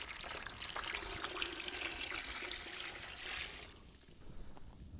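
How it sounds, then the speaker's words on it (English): Water from a gallon jug poured into blueberry wine must, a steady close splashing pour that fades and tapers off near the end, with no talking. "we're going to finish adding the rest of that gallon of water"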